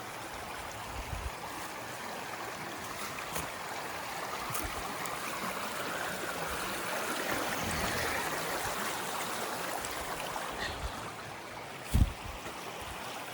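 A stream at a water crossing on the Appalachian Trail runs with a steady, broadband rushing and trickling wash, moderately close and even throughout, broken by a single brief thump near the end.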